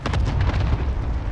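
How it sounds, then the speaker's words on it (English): A cluster airstrike in the video game Warzone Pacific sets off a dense, continuous roll of booming explosions that fill the short moment loudly, without any clear speech. "Cluster strike is active."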